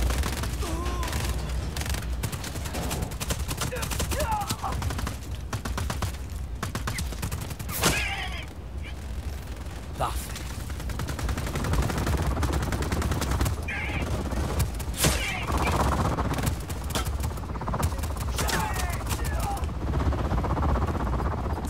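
Dense gunfire in the video game Just Cause 4, bursts and single shots layered over a continuous loud battle mix with booms, with someone talking through part of it.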